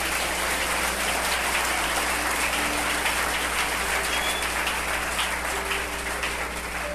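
A church congregation applauds in sustained praise during a worship service, a dense, steady wash of many hands clapping that holds evenly for the whole stretch, with faint tonal music underneath.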